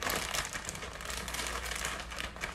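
Close, soft crinkling of a small plastic Ziploc bag, a steady rustle of small crackles that keeps going without any speech.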